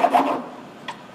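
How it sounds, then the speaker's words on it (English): A bevel file rasps across guitar fret ends on a crate guitar in a few quick strokes, followed by one short separate scrape. "Bevel file my ends to get the angle on."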